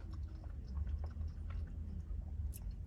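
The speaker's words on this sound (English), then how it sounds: "let me have a bite" Someone chews a mouthful of Taco Bell food close to the microphone, producing soft, continuous wet mastication sounds over a low steady background hum, with no talking.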